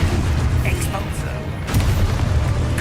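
Spell explosion of Expulso in the Hogwarts Legacy video game: a loud, dense booming blast with rumbling low end that swells and holds across the whole moment, followed by a sharper second burst partway through.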